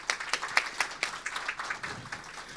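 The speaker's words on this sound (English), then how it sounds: "Please give them a round of applause." An audience at a panel discussion on AI in healthcare gives the panelists applause of moderate loudness, with individual claps distinct and irregular, thinning out toward the end.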